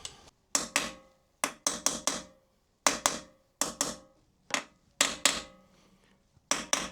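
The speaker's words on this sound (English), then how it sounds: "Slowly, slowly I need to push the bearing in its place." Steering stem bearing being driven into the head of a Kawasaki Versys 1000 SE, heard as close, sharp metallic taps in irregular pairs and clusters with short ringing decays and quiet gaps between.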